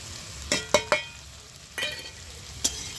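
Ginger paste, turmeric, salt and chili powder sautéed in a pan, with a handful of sharp spoon scrapes and clinks over a faint sizzle, no talking.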